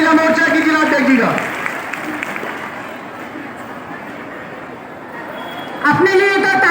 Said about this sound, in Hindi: तालियों के गड़गड़ाहट से जोरदार स्वागत होना चाहिए महिला मोर्चा की जिलाध्यक्ष जी का